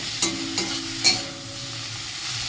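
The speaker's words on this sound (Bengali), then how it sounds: "তারপরে আলুটা ভাজছি" Potatoes sizzle steadily in hot oil in a pan, close by, with a few scraping stirs near the start.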